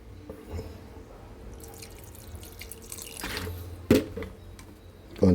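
Vinegar pours from a bottle into a cooking pot while a dish of pork ribs and papaya is being made, a wet trickling and dripping run over steady kitchen background with a couple of sharper clinks near the end.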